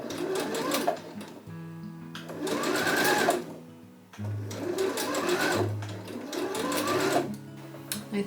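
A sewing machine stitches a jumpsuit seam, easing fabric in, with two long loud bursts of fast steady whirring separated by brief pauses, close and alone with no talk.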